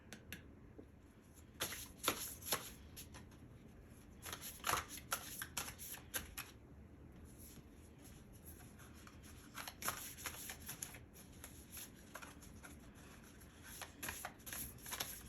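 Oracle cards being shuffled by hand during a Capricorn tarot-style reading, giving repeated bursts of riffling and sliding card noise with brief pauses, close and fairly quiet, with no talking.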